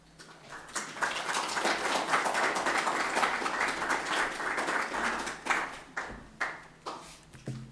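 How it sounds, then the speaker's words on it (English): A crowd at a Gaelic Nova Scotia Month launch applauds Kathy Ann and Lisa, building into sustained clapping and then breaking into scattered individual claps that trail off. "Let's give them another round of applause"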